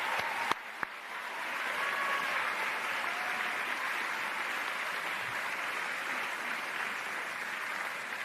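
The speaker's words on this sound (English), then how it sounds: "May I take this opportunity to ask another round of applause for all our students" Applause for student artists at a school's 75th anniversary closing ceremony, a couple of sharp early claps swelling into a steady, sustained ovation from a large audience.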